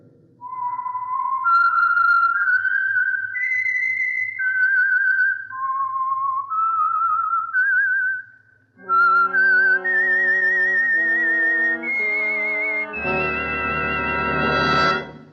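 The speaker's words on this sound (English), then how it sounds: "That whistle is your signal for the Signal Oil Program, The Whistler." A lone whistler carries the eerie radio-drama theme melody, clear and close, sliding between long sustained notes before orchestral music swells in underneath toward the end.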